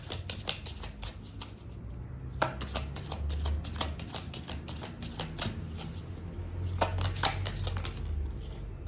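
A deck of tarot cards is shuffled up close in steady, rapid riffling and slapping bursts that continue without pause, with no voice over them.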